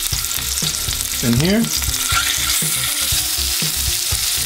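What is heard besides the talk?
shrimp frying in hot oil, sizzling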